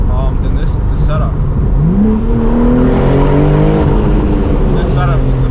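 A BMW M4 G82 manual with a titanium exhaust revs loudly and continuously, the engine pitch sweeping up and falling back in rising pulls, with a voice speaking briefly over it.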